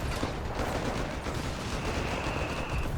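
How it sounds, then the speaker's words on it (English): Dense, continuous battle noise from the real-time strategy game Company of Heroes 3, with mortar fire and overlapping explosions and gunfire forming a loud, unbroken rumbling barrage with no talking. "A lot of mortar fire here"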